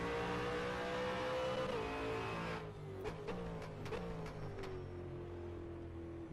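V8 Supercar weighing about 1.5 tons in rFactor 2 at Bathurst, engine note held high then dropping as it brakes into a corner, with a few sharp clicks of downshifts, fairly quiet and without voices.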